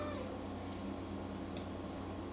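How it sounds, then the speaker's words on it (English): A cat meows faintly a couple of times at home against a steady hum of background noise, with no talking over it. "He's meowing."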